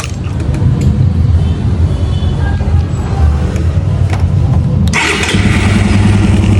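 A Suzuki Raider 150 motorcycle with a freshly adjusted carburetor idles loud and close, settling into a steady, even rhythm, then starts again sharply with one push of the starter near the end.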